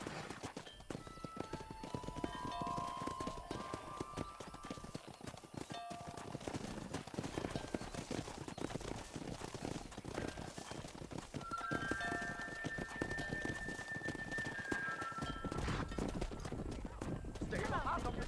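Horse hooves clip-clop at a quick, steady pace while herding cattle in the video game Red Dead Redemption, with an occasional whinny and people calling out over the hoofbeats.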